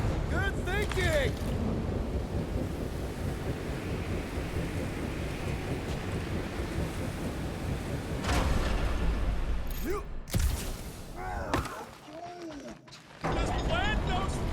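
Strong wind gusts in the Guardians of the Galaxy video game, a constant loud roaring rush with rumbling swells, under several voices talking, cutting off briefly near the end.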